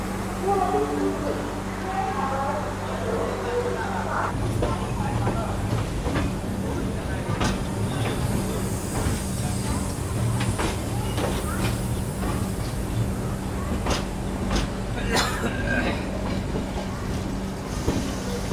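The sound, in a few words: train running, 22612 New Jalpaiguri–MGR Chennai Central SF Express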